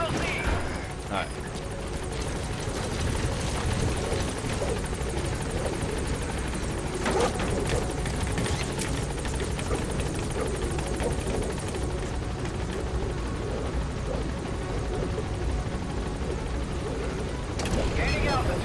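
The Pequod helicopter in Metal Gear Solid V hovers near the landing zone with a loud, continuous rotor roar and whine throughout, while voices speak over it.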